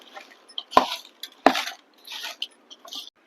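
Lemon pieces tossed with coarse rock salt and turmeric for a lemon pickle, two sharp wet clattering mixing strokes stand out, with softer scraping and stirring between them, close and fairly quiet.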